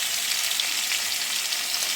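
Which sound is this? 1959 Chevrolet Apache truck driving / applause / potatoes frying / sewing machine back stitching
potatoes frying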